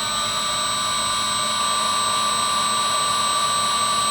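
A CNC spindle motor runs steadily with a continuous high-pitched whine and hum, close and fairly loud, holding a constant tone throughout.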